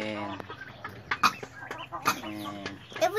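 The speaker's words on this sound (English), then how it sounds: "Chicken." A farm chicken clucks in short, separate bursts at close range, kept among turkeys, with quiet background noise and a little talk between the calls.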